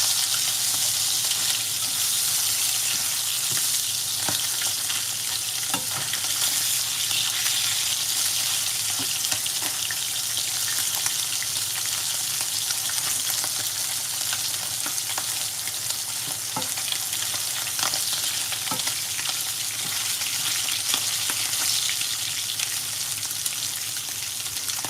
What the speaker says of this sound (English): fish does not take too long to cook. So I'm going to flip it again.